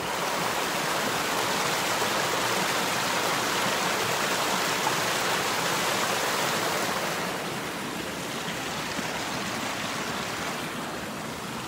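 A small waterfall beside the Baker Lake Eastside Trail, giving off a steady, close, full rush of falling water that continues unbroken and eases slightly near the end.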